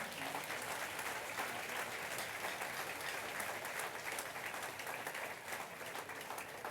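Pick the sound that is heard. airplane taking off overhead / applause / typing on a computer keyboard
applause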